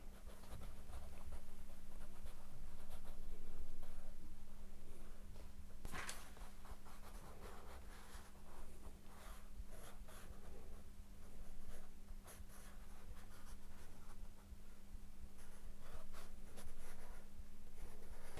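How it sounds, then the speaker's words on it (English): Pencil scratching across paper while an artist draws a portrait, a steady close scratchy texture of short strokes with occasional sharper marks, and no talk. "So if I'm going to draw him, Samu"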